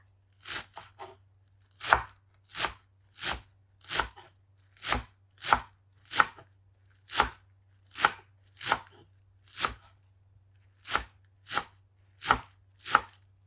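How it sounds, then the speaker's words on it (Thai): Garlic chives being chopped into 1 cm pieces on a cutting board for a Thai garlic chive dish: steady, crisp knife chops, about seventeen evenly spaced strokes, close and clear with no talking. "แล้วหั่นความยาวก็ประมาณสัก1เซนค่ะ"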